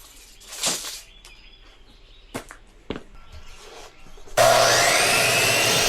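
A saw cuts deck railing boards to length on a cabin deck: a few sharp knocks and handling noises, then a loud, continuous harsh cutting roar close by for the last stretch.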